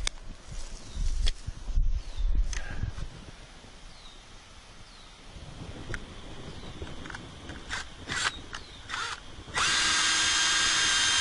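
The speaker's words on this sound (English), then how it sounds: "So what I'm going to do now is drill in a pilot hole." A power drill whirs in short bursts, then runs steadily and loud near the end while drilling a pilot hole, with light handling noises and faint outdoor background between.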